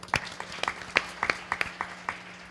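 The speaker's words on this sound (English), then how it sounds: "Give her a big hand, please." Scattered, sparse applause from a small audience inside a Hindu mandir, a few hands clapping in irregular bursts under a steady low hum.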